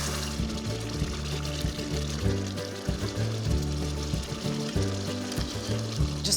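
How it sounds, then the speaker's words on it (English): Hot sugar syrup pours into a hot semolina roux for orange-spiced halva, giving a steady bubbling sizzle with low rumbling and hissing throughout, close and continuous. "I'm now ready to pour my sugar syrup into the roux"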